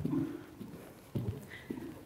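A high-spirited horse runs on a lead during training, its hooves thudding in a steady loping rhythm of quiet, moderately distant footfalls.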